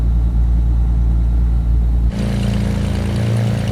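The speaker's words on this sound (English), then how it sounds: "Okay, so that is engine started." A Black Square Beechcraft Bonanza piston engine idles in Microsoft Flight Simulator, a steady loud drone and rumble that shifts abruptly to a rougher, brighter running tone partway through, with no talking.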